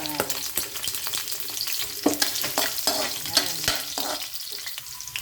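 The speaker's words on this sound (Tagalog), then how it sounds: "Gisa na to guys ang lamas." Garlic and onion sauté in hot oil in a pan, sizzling continuously with crackles and stirring scrapes and clinks, close up and fairly loud, with no talk over it.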